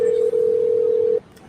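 A steady telephone dial tone holds loud and close for just over a second, then cuts off abruptly, with no speech over it.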